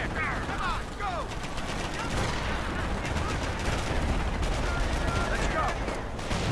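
Gunfire during a D-Day beach landing with an engineer squad under fire: a dense, continuous barrage of shots and rattling bursts, loud and unbroken, with faint shouting woven through.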